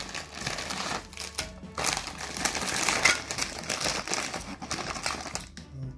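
A waffle cookie's plastic package gets cut open and handled, giving close crinkling and rustling with snips and crackles that rise and fall over several seconds, fairly quiet.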